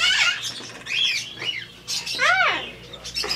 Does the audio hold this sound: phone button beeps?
no